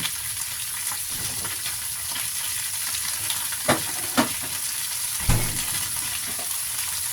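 Crab stir-fried in a pan with oyster sauce, a continuous close sizzle under repeated scraping stirs, with a few sharp knocks of a utensil against the pan and no speech.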